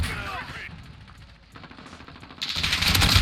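Rapid gunfire bursts from the 725 shotgun in the Modern Warfare game, loud and close, with a sharp blast at the start and another at the end and quieter game noise between.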